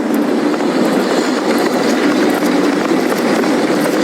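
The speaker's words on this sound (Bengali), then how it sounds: "আমি এটা বলতে চাই না, কিন্তু ট্রেনটা জোরে চালাও" Loud, continuous rumble of a moving train with rhythmic rattling of wheels on track, sustained and close throughout.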